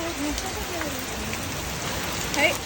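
Rain falls on a houseboat on the Alappuzha backwaters as a constant, dense hiss of drops, with faint voices or calls barely audible beneath it.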